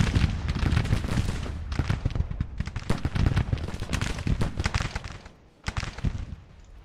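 Artillery bombardment in a Civil War battle game, with 24-pound howitzers firing along the line: a dense, continuous barrage of overlapping booms and cracks, loud and relentless, easing briefly before another burst.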